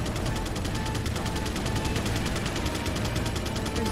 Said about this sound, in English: Why is Mike shooting?